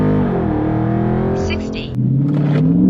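A Dodge Charger 392 Scat Pack in sport mode accelerates hard, its V8 note climbing in pitch through the gears with a brief shift dip, loud and close from inside the cabin, with a voice over the engine.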